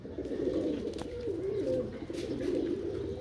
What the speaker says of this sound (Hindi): सही भाई ने कबूतर भी अपने उड़ा दिए